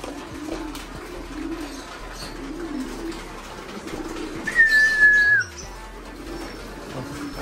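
Domestic pigeons coo softly nearby in a house, low murmuring calls repeating under faint background noise, with a brief whistle-like tone and a bump midway.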